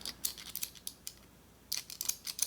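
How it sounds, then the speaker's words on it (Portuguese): Scissors snipping crochet yarn while making an amigurumi bird, a dull blade giving a series of quick, crisp metallic snips in two bursts separated by a brief pause, close and alone. "Posso cortar novamente."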